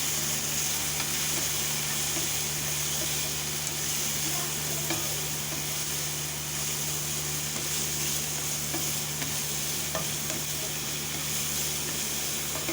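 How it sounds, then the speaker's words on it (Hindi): A spiced masala mixture with tikka masala cooking in a pan, a steady loud sizzle and hiss with occasional scraping stirs, continuous and close, without voices. "इसे अच्छे से मिक्स कीजिए और इसे बहुत अच्छे तरीके से कुक कीजिए।"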